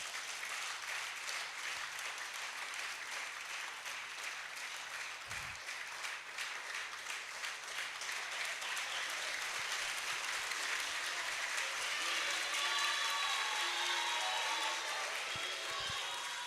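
Steady audience applause at a polytechnic valedictory lecture in Ibadan, greeting the lecturer, a dense, continuous wash of many hands that holds strong and swells slightly toward the end, with no one speaking over it.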